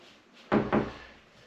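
An interior wooden door swings shut with a solid wooden thud and a quick rattling second knock, close by in a quiet room.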